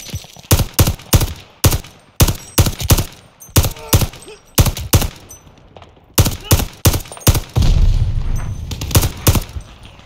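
Massive guns fire in rapid repeated bursts during a WWII El Alamein battle video game, loud, close volleys with short gaps and a heavier rumbling stretch near the end.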